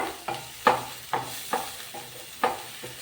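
Chopped small onions stirred and sautéed in a pan for an egg masala gravy, a spoon scraping the pan in about seven distinct strokes over a soft, steady sizzle, close and moderately loud with no talk.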